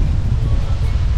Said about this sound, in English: Gotta speak loud because of the wind.